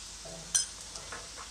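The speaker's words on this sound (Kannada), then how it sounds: "ಇದು ಈರುಳ್ಳಿ ಚೆನ್ನಾಗಿ ಫ್ರೈ ಆಗಿದೆ" Onions frying in a pan for potato palya, a soft steady sizzle with a single sharp clink of a spoon against the pan and a few faint scraping stirs, brief and quiet.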